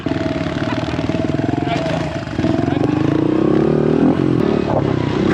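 A stock 110 pit bike ridden on a dirt track, its small engine buzzing loudly and steadily close by with pitch rising and falling as the throttle changes, rider holding the camera one-handed.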